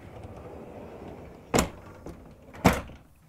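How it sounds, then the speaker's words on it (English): Sliding bedroom doors in a 2023 Newmar King Aire 4531 motorhome glide and thump shut twice, two sharp close knocks about a second apart over a quiet interior hum. "And then sliding doors to isolate the bedroom from the rest of the couch"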